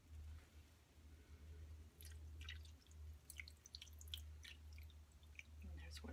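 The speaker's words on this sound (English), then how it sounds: "then we're just going to pour it on the yarn" Liquid dye poured onto yarn, faint wet dripping and squishing sounds close by over a low steady hum, with soft speech in the background.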